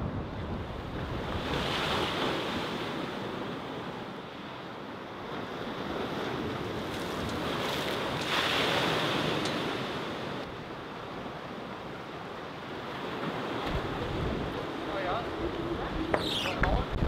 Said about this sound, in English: Let's see if there are still waves coming.